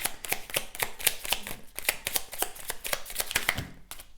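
Oracle cards are shuffled by hand in quick, crisp bursts of riffling and slapping, close and clear for about four seconds, with no voices.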